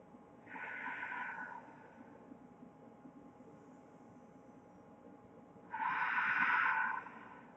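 Two slow, deep breaths during a gentle hatha yoga class in pyramid pose, each a soft, close airy exhale rising and falling, separated by a quiet pause, with no talking.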